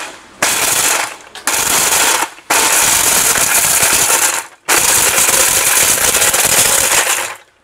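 Electric blender with a steel jar running in loud, close bursts of harsh grinding whir, started and stopped several times with short silent gaps between the runs.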